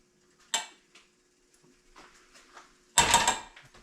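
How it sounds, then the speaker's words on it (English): Cooked jasmine rice spooned into a bowl: a few soft scrapes and clinks of a utensil against the dish, with one louder clatter near the end, close and fairly quiet. "Put a little layer down in the bottom of my bowl."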